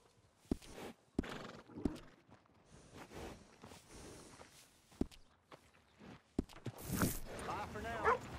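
In the video game Red Dead Redemption 2, a horse whinnies amid clopping hooves, with several sharp hoof strikes and a voice talking in between.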